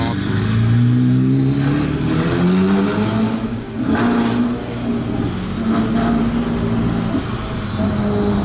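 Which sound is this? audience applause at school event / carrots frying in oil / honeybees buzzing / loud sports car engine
loud sports car engine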